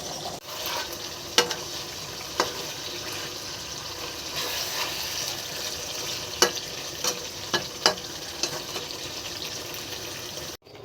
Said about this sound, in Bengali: আমি এখানে আমার সেমাইটা রান্না করে নিচ্ছি